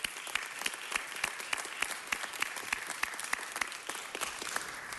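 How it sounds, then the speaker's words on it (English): Applause at a city council meeting, a roomful of people clapping together in a steady, fairly soft patter of distinct hand claps that continues evenly for about five seconds. "Let's give them all a big round of applause."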